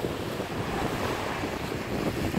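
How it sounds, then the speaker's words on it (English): Ocean waves at Swanage on a cold, breezy morning, a continuous broadband wash of surf mixed with wind buffeting the microphone, steady and enveloping with no voices. "I don't know how well I'm going to be coming over the noise of the waves"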